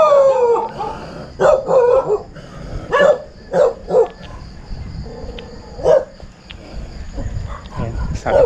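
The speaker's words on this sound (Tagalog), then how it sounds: "Ayan, sabi ko na may aso." Several dogs bark and howl in the distance, scattered calls over a few seconds, while a person speaks nearby in the foreground.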